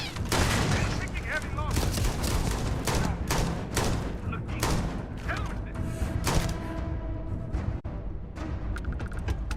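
A turret in Starfield fires bursts of rapid gunshots and thumping impacts, loud and sustained, with someone talking over the din.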